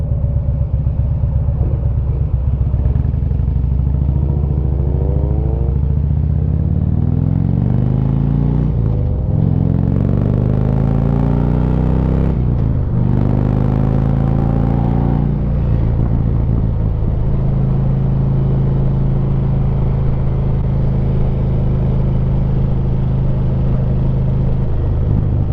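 Harley-Davidson Street Glide ridden through Niles Canyon, a loud deep rumbling engine rising and falling as the rider shifts and accelerates, with steady wind roar throughout.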